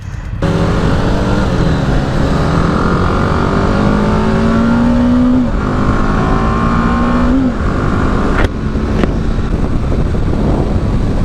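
A BMW G 310 GS motorcycle on a ride, its single-cylinder engine climbing in pitch through two long revs under steady, loud wind rush close to the rider, with no voices.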